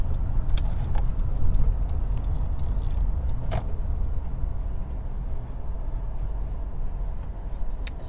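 A car runs on a town street in Clinton, Mississippi, a steady engine rumble heard from inside the vehicle with faint clicks and a brief knock, no talking.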